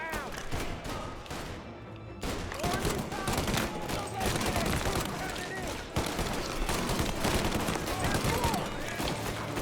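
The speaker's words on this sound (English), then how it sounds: "Ich weiß, dass es 9 mm sind, die da verschossen werden" Rapid 9 mm gunfire in Mafia: Definitive Edition, dense overlapping shots and bursts running nearly continuously and loud, with game voices shouting over the firefight.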